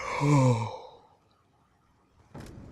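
One long, drawn-out yawn with a falling pitch that trails off into quiet, followed by a brief rustle.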